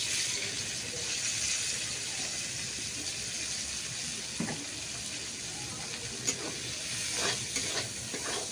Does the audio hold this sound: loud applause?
no